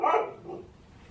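A single close dog bark, sharp and loud, trailing off quickly.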